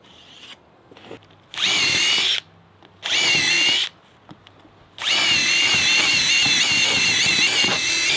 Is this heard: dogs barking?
no